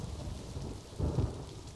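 Rain and rolling thunder in the video game Planet Zoo, a soft steady patter with a brief low rumble midway, faint and alone.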